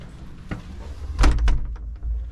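Someone tries to open a closed old door at a tower in the Moorish Alcazaba in Málaga, giving a couple of dull thunks and a rattling knock close by.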